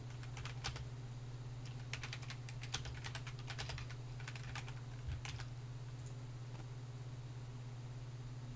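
Quiet typing on a computer keyboard, with irregular clusters of soft key clicks over a steady low hum, faint and close, ending in a few sparse taps.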